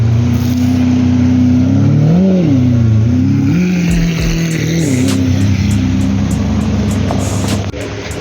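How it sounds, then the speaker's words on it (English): A Ford Fiesta pulls up at a rainy London supercar meet, its engine loud and close with a steady droning note that rises and dips as it revs gently, settling into a low idle at the end. "the Ford Fiesta just pulled up"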